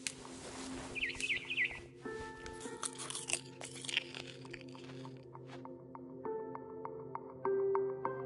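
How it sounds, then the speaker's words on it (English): In the video game What Remains of Edith Finch, a barn swallow gives a brief quick run of chirps outside a window, faint behind nearby crunching, chewing and assorted indoor game sounds. "Then I heard chirping outside my window. It was a barn swallow going back to her nest."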